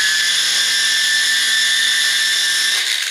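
A polishing machine spins a pad over a quartz countertop with a loud, steady, high-pitched whine that holds for a few seconds and then starts to wind down at the end.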